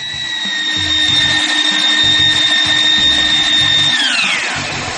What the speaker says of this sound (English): Start up the extruder and weld at a continuous speed.